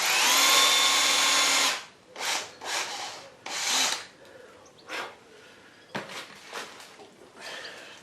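A power drill whirs loudly during refurbishment of a Harrison M300 lathe apron, one long run followed by several short bursts and pauses.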